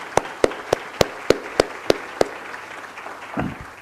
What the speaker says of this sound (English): So I'd like to publicly now give a round of applause to the founder